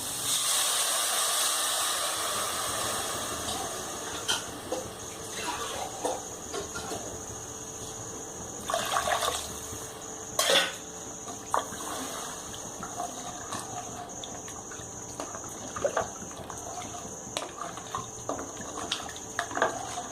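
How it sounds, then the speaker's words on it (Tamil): Water pours steadily into a cooking pot of fried mutton leg pieces for soup, with a rushing hiss, a few clinks and knocks of utensils along the way, close and continuous without speech. "தண்ணி ஊற்றிக்கோங்க."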